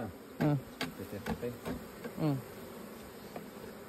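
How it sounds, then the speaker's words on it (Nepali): Honey bees buzz at a beekeeping site in Nepal, several individual insects droning past close by in short rising and falling passes over a quiet outdoor background. "यहाँ त साथीहरू मौरी यसरी पालन गरिँदो रहेछ"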